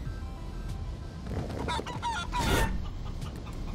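Chicken clucking from the video game Guacamelee 2, a few short clucks amid a busy game soundscape at moderate loudness, with a brief brighter squawk near the end.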